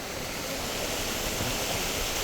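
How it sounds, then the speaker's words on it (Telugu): Fast, forceful glacier-fed mountain water rushes beside a hostel in Kashmir, making a steady broadband roar that is close and unbroken. "ఇక్కడ వాటర్ ఫోర్స్ ఎక్కువ ఉంది కాబట్టి సౌండ్ వస్తలే."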